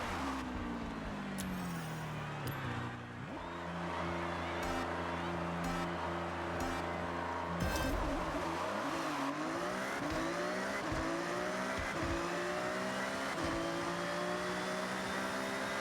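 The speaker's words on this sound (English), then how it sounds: "Ferrari sounds so good." A Ferrari engine in the racing game Forza Horizon 6, revving loud and continuous with rising and falling gear-change sweeps and a sudden drop and recovery midway, tire noise mixed in.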